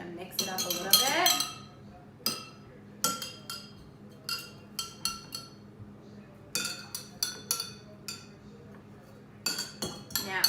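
A spoon clinks repeatedly against a glass as liquid is stirred for a celery science experiment, with sharp, bright taps in irregular bursts, close and fairly quiet, with a voice speaking at times.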